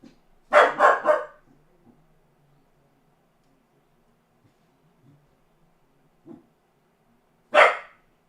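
An indoor dog gives a quick burst of three loud barks, then falls quiet through a long pause with faint shuffles before one more sharp bark near the end.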